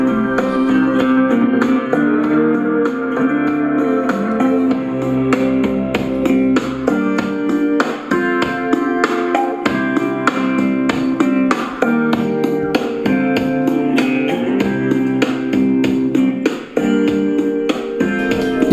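Music plays through a small Winstar portable waterproof mono Bluetooth bike speaker at full volume, giving a continuous tuneful track with a steady beat and a thin, boxy tone.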